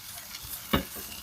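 Sesame seeds being given a final stir-fry in a pan as a home-cooked side dish, a faint sizzle with one sharp scrape of the spatula near the middle, close and quiet.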